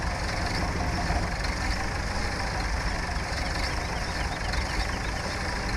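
A farm machine's engine idles steadily in Farming Simulator 17, a continuous low rumble at constant loudness with no talk over it.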